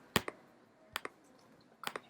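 A few quiet keystrokes sound on a computer keyboard, sharp clicks coming in three short clusters separated by pauses, with no speech.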